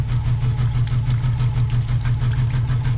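A BMW car engine idles with a steady, throbbing low rumble and a slight rhythmic pulse, close up and uninterrupted.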